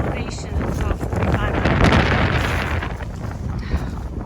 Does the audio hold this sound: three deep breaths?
no